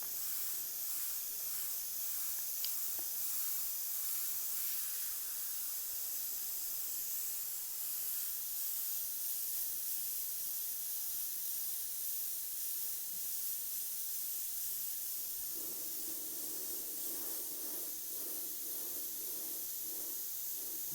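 Airbrush steadily spraying black and grey paint onto a leather saddlebag, a continuous close hiss with slight changes in pressure.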